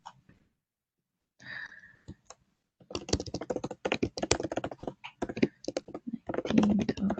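Fast computer keyboard typing during an online working-group meeting, clustered bursts of close keystrokes after a few isolated clicks, with faint breathing and no speech over it.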